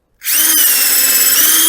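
A power drill boring a hole into a wall for wall plugs, a loud, steady high-pitched whine that starts abruptly and holds without a break, close up with no talk.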